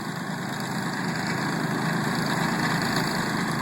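Leaf blowers clearing sand from a golf green after solid-tine aeration give off a continuous, loud engine roar with a broad airy hiss. It holds steady and close throughout.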